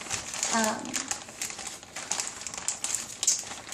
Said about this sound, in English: I'm going to open this bag a little bit more since it's kind of small.